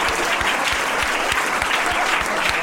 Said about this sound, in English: How about we have a round of applause for Nikki quitting smoking?